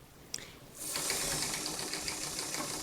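A sewing machine stitches trim onto a Chanel-type jacket: a small click, then the motor starts and runs in a fast steady whir of rapid needle strokes, close and alone.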